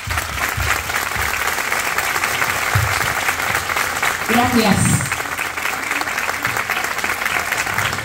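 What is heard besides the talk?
audience applause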